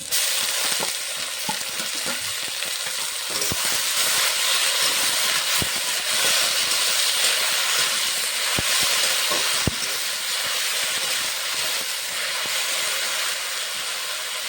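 Jute leaves dropped into hot oil with fried onion and green chilli sizzle in a steady, loud broadband hiss, with a few sharp pops and crackles scattered throughout and no voices.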